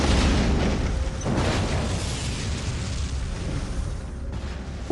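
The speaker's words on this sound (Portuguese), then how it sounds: "O poço explodiu catastroficamente porque não estava lacrado" A loud, rumbling roar from the catastrophic explosion of the unsealed Deepwater Horizon oil well fills the whole stretch, a dense continuous blast-like noise with no voices, slowly easing slightly toward the end.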